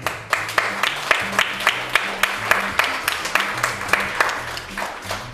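Studio audience clapping together in a steady rhythmic beat, loud and near, sustained for the whole stretch over a faint low musical hum, with no voices standing out.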